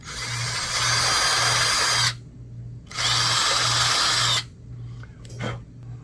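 A power drill runs in two steady bursts of about two seconds each, opening holes with a 3/32 bit in the stern of a 1:72 German Type 212 model submarine, followed by quieter handling noise.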